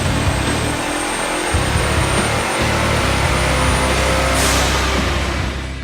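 A turbocharged 2010 Ford Mustang with a Hellion turbo kit roars steadily through a full dyno pass. The loud, dense engine and turbo noise holds high throughout, shifts upward late in the run and eases slightly at the end.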